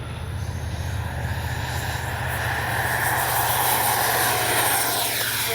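RC model MiG-29 jet with a 64mm electric ducted fan, a loud sustained whooshing whine near the field that swells slightly as the plane climbs and flies past, with no talk.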